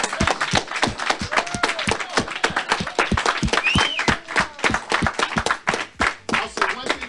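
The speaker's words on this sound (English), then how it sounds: "So let's all give him a round of applause." A seminar audience at a foreclosure real-estate training gives a round of applause, a dense close burst of individual hand claps with distinct sharp hits, a few voices calling out.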